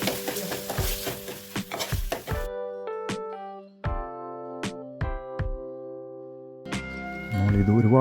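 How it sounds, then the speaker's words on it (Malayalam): Beef roasting in coconut oil in a pan: busy scraping and sizzling stir for a couple of seconds, then quieter with scattered spoon clinks and taps against the pan, with a voice heard alongside. "ഇനിയും വീണ്ടും നമ്മൾ വെളിച്ചെണ്ണ ഒഴിച്ച് കുറച്ച് വെളിച്ചെണ്ണ ഉപയോഗിച്ചിട്ട് വീണ്ടും നമ്മൾ ഇത് റോസ്റ്റ് ചെയ്യണം."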